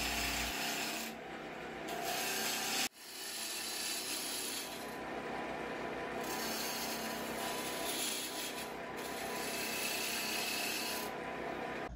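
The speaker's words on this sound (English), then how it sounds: "I started with a 3/8 bowl gouge, and I'm just rounding the piece here, taking it slow" Dense hardwood for a pepper mill spinning on a lathe while a 3/8 bowl gouge rounds the blank, a steady continuous scraping rasp with a brief break near three seconds, no voices.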